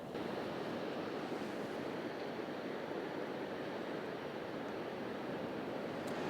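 Ocean surf at Wharariki Beach, New Zealand, roars loud and constant, with no pause between waves. Wind adds to the broad, steady wash of sound.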